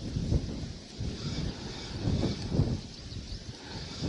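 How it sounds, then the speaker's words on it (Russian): Strong wind on a lakeshore or riverbank buffets the microphone in low, uneven gusts that rise and fall, with a faint background hiss and no talking. "Ветер, да, очень сильный."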